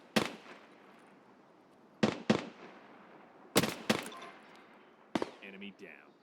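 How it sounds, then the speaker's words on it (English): Gunfire from a drum-magazine weapon in the game Escape from Tarkov, sharp distant-sounding shots in separated pairs and singles across several seconds, with quiet gaps between them. "He's shooting at somebody up here."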